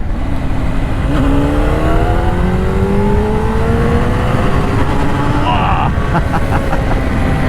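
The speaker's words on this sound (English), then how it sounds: "Let's just drop her down a cog and hear that engine again." A Honda CBR600RR sport motorcycle engine revs and pulls through the gears after a downshift, its pitch climbing steadily, with constant wind rush and road noise throughout.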